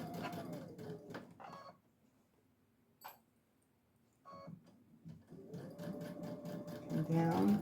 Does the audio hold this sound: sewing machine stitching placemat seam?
yes